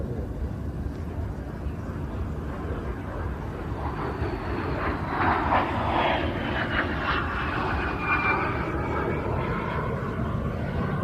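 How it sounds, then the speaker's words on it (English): An aerobatic aircraft flies overhead at the Ayr air show, its engine drone swelling and fading with a distant Doppler sweep as it passes, over steady background crowd ambience. "Look as the sun glints off the top of the aircraft as it's inverted."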